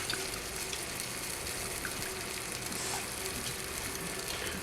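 Balsamic vinegar hitting a hot pan to deglaze it, giving a steady, soft, hissing sizzle that runs evenly throughout with no talking.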